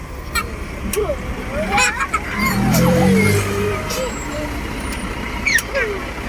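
Heavy road traffic crawls near a bridge under construction, with engines rumbling, a swelling truck passing and brief air-brake hisses, while people talk over the din and a dog whimpers nearby.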